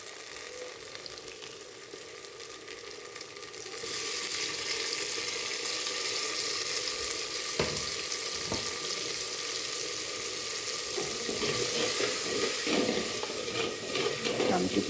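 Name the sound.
tomato puree added to frying spice masala in oil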